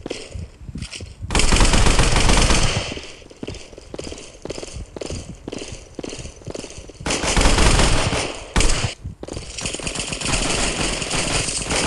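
Loud, rapid automatic gunfire from the video game Counter Attack comes in long rattling bursts separated by short gaps.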